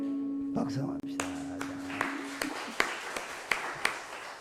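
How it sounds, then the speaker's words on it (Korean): A congregation at a church service claps in a steady, evenly spaced beat that starts after a sustained tone fades. The claps are sharp and moderately close, with voices faintly underneath. "박수합시다."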